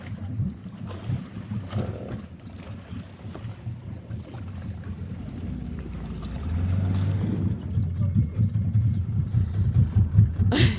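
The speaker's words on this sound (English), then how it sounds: "I can hear our boat just pulling up now, one just zinging along the river." A riverboat engine on a river in Borneo, Malaysia, drones steadily at low pitch and holds fairly loud throughout, swelling slightly in the second half alongside wind and water noise.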